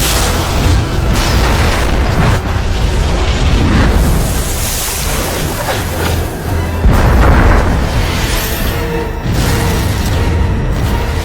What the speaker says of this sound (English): The massive explosion killed a large number of piranhas.